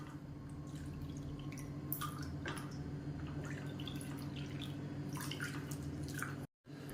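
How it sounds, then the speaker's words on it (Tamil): Water poured into a bowl of flour for batter, a steady trickling, dripping pour close by, with a brief drop to silence near the end. "இப்போ எந்த கப்பில் மாவு எடுத்தோமோ அதே கப்பில் 3 கப் அளவுக்கு தண்ணி சேர்த்துக்கலாம்"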